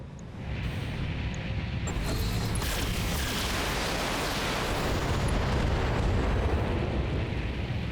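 An enemy vehicle blows up in the BattleTech video game: a sustained, loud explosive rumble with crackling debris that swells after the first half-second and holds steady for several seconds, with no voices.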